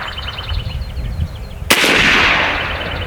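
A single loud, sharp shot from an AEA PCP air rifle fired outdoors. The crack is followed by a broad, hissing decay that fades slowly, after a quieter stretch of low rumble and faint background chirps.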